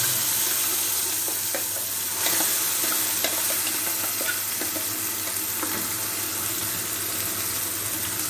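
Onion, tomato and ginger paste frying in hot oil for dum aloo, a steady broadband sizzle with faint scraping stirs, close and continuous with no voices.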